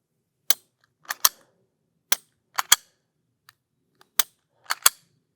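Sharp clicks from the trigger of a Smith & Wesson M&P 2.0 pistol being dry-fired, about eight crisp snaps in loose pairs and singles across a few seconds, close and loud against silence.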